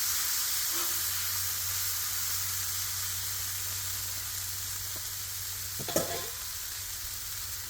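Noodles hissing and sizzling on a hot Blackstone flat-top griddle while being steamed for hibachi, a steady close broadband sizzle with a steam burst and scraping clatter near the end.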